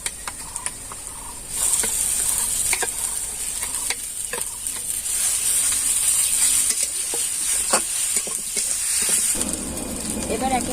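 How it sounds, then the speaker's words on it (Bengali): Potatoes and onion fry in a pan with a continuous close sizzle that swells after a quieter opening, broken by scattered stirring clicks and scrapes. "এবার আমি আলুটা দিয়ে দেবো। পেঁয়াজটা ভাজা ভাজা হয়ে গেছে।"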